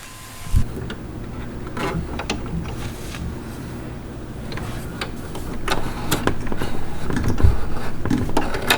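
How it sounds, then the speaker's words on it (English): Sewing machine stitching fabric and elastic, a close mechanical whir with quick ticking clicks and bursts of stitching that grow slightly louder toward the end. "So now we're gonna move on to the sewing machine"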